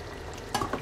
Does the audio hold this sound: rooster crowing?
no